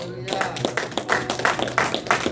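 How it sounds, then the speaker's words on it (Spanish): Church congregation applauding during a Spanish-language sermon, a dense patter of claps with some voices mixed in, fairly close and steady for a couple of seconds. "Un aplauso si se puede."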